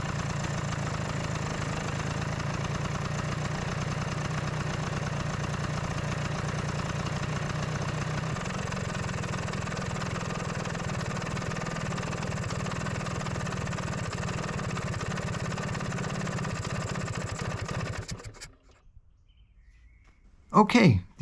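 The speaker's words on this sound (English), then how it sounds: "Let's see how the engine reacts when I now close the fuel valve." A Vespa PX scooter engine idles steadily with a low, even chug for a long stretch, then sputters and dies into near silence after the fuel valve is closed, followed by a brief faint sound.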